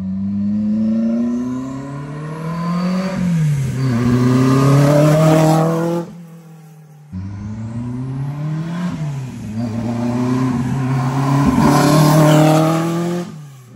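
Renault Maxi 5 Turbo rally car engine revving hard through rising gear sweeps, then after a short cut out, revving and accelerating again, loud and close with no talk.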